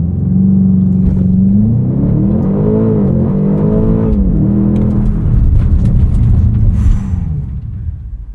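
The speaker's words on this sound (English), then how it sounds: "Let's do a quick launch." 2024 BMW X5 M launch-control start, heard from inside at night: a loud, deep engine rumble builds and sweeps up through rising revs and gear changes, then eases off near the end.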